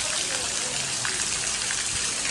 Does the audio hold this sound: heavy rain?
yes